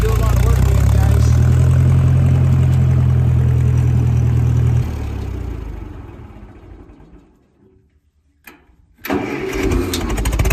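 A 1956 Massey Ferguson MH50 tractor engine runs loud and close with a low steady drone, then winds down to near silence before firing back up and running again.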